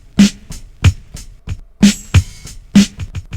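Break beat loop played live by hand on Roland MV-8000 sampler pads, punchy kick and snare hits with crisp hi-hat taps in a loose, slightly uneven rhythm, loud and close with no talking.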